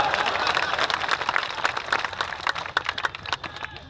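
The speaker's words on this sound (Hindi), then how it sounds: "एक बार मेरे लिए भी तालियां बजा दीजिएगा" Audience clapping at a Hindi poetry gathering fills the clip, a dense steady patter of many hands that thins and turns more scattered toward the end.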